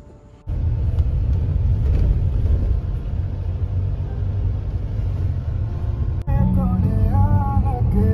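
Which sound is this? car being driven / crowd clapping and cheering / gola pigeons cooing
car being driven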